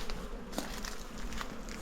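A steady swarm of honeybees hums and buzzes up close at the hive, dense and continuous, with soft ticks and taps scattered through it.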